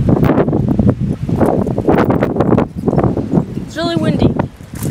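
Gusty wind buffets the microphone with a steady low rumble throughout, while a person talks over it and a brief squeak cuts through near the end.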